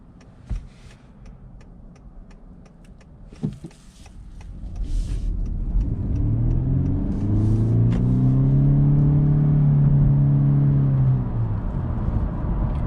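A 2021 Honda Insight hybrid with a 1.5-litre naturally aspirated four-cylinder accelerates at half throttle. After a few faint clicks, a steady engine drone builds and its pitch climbs, loud and continuous, heard from inside the cabin.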